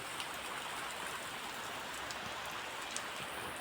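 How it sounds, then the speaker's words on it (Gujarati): Heavy rain pouring steadily in a village, a dense, even hiss of falling water with faint drops and splashes, no voices. "આપણે વરસાદ ચાલુ થઈ ગયો એ પણ જોરો સોરોથી"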